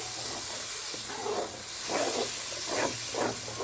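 Ground tomatoes sizzle steadily in hot oil for a fish masala curry, a continuous hiss with soft bursts of spattering and stirring and no voices.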